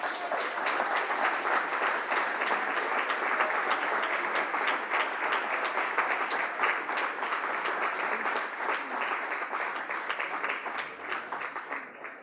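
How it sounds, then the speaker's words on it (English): A crowd gives steady, sustained applause for the winning spoken word group at a 2016 pitching competition. The clapping is dense and even throughout. "Can we now put our hands together for Lingua Franca spoken word movement?"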